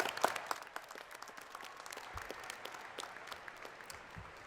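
A commencement crowd applauds the staff and administrators, scattered claps over a faint, steady hum, fairly quiet and distant throughout.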